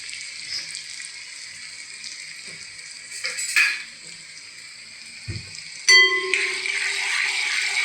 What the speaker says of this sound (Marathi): आता कांदा टाकूया. तो चांगला परतवून घेऊया.